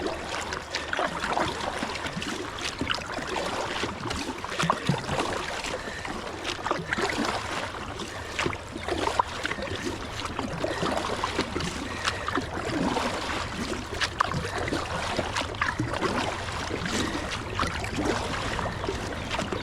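Paddling a Moken 12.5 V2 kayak against the current on the Trinity River brings a steady wash of moving water and soft paddle splashes, continuous and fairly quiet, with no talking.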